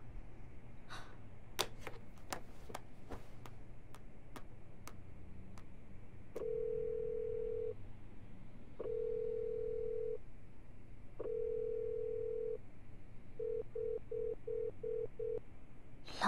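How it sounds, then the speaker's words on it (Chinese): A telephone call rings out unanswered, heard as a repeated ringback tone in long evenly spaced beeps, then a quicker run of short beeps, preceded by faint clicks of dialing in a quiet room. "老妈也不接电话，"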